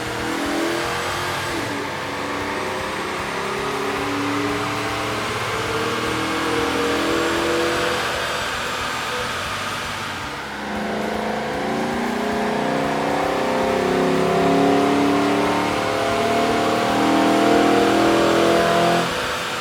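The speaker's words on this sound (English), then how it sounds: "With the air intake installed, we ran the vehicle on the dyno to test the sound comparison versus the stock intake." A Chevy 6.2L V8 fitted with an aftermarket air intake revs on a dyno, a loud steady engine roar that surges and climbs through repeated rising pulls, heard close and alone.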